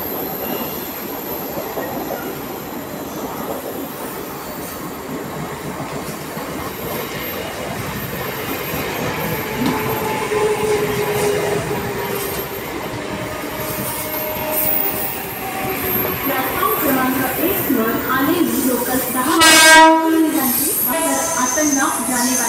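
A Mumbai local train rolls into the platform at Thane station with a low rumble and rattling wagons, building to a high metallic wheel squeal near the end, amid station ambience and faint voices.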